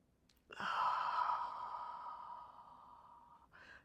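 A person breathes out audibly during a ROLLNESS fitness exercise. A single long, steady, breathy exhale lasts about three seconds, and a short second breath follows it.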